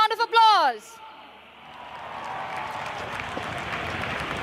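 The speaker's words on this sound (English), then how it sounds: "can I hear a huge round of applause?" A large open-air crowd at an Indian Air Force aerial display on Marina Beach, Chennai, breaks into a broad wash of applause and cheering, heard from a distance and fairly faint, after a brief amplified voice at the start.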